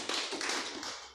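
Church congregation applauding for Jesus: a dense, continuous burst of many hands clapping at once, loud and close, with no talk over it.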